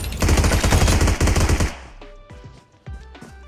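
Bizon submachine gun fired in the mobile game PUBG Mobile, a loud rapid burst of automatic fire lasting over a second, then scattered shorter shots and echoing reports at a distance.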